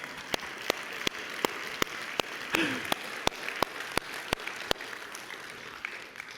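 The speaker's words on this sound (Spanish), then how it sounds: "Hay un fuerte aplauso al Señor" Church congregation applause for the Lord, a steady rain-like patter of many hands with a rhythmic, evenly spaced louder clap keeping time throughout, under a brief faint voice.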